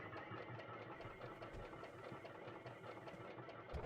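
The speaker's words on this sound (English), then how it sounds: "let's go ahead and start the engine." An aircraft engine in the X-Plane 12 flight simulator video game runs with a faint, steady mechanical chug and rapid knocking pulses, quiet and unbroken throughout.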